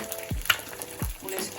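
Eggs frying in a pan, seasoned with salt and pepper, giving a soft steady crackle with a couple of light knocks from a utensil, close and fairly quiet.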